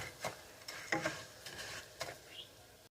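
Rice toasting in a pan for red rice, faint dry sizzling with scattered clicks and scrapes of a utensil spreading the grains flat, quiet and close.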